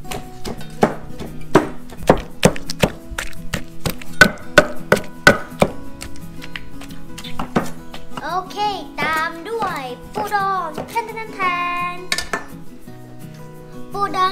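A pestle pounds mixed seafood som tam made with salad greens instead of papaya in a mortar, giving sharp knocks in a steady rhythm for several seconds before voices take over.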